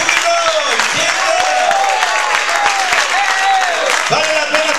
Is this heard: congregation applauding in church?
yes